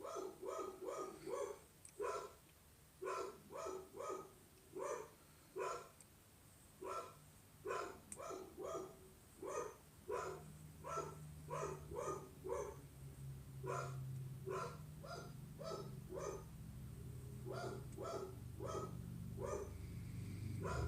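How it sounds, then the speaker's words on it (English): A house dog barks at someone arriving at the door, firing off repeated sharp barks in quick bursts for about twenty seconds. It sounds somewhat distant indoors, with a low rumble growing underneath toward the end. "You can hear my dog going crazy"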